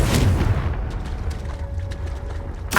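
A Confringo blasting spell in Hogwarts Legacy erupts in a single heavy, booming explosion that rumbles and fades, followed by a sharp burst at the end.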